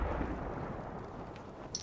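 Heavy explosions in the tactical shooter game Ghost Recon Breakpoint, a continuous dense rumble of blasts with a sharper burst near the end.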